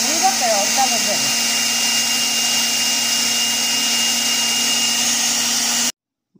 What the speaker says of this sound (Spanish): ya acabé de hacer el ruido con la licuadora